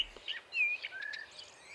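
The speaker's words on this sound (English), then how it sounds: "You can hear the bird song." Bird song ambience in Transport Fever 2, set in an alpine valley in France, with a few thin chirps and whistled calls scattered over a quiet background, faint and fairly distant.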